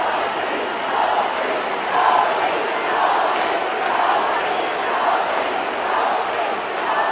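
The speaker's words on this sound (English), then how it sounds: "They weren't just cheering," A large basketball arena crowd roars and chants a player's name, a dense, continuous wash of voices that swells in a steady repeating rhythm about once per second.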